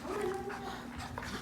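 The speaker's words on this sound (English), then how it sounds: "My dog is very submissive." Submissive dog whimpering during play, a steady thin whine held through the moment over busy, close household noise.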